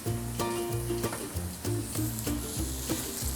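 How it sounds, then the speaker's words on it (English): Salmon sears in a hot pan with a soft, continuous sizzle, partly masked by a rhythmic melodic tune playing over it. "Let's get a nice golden brown sear on both sides."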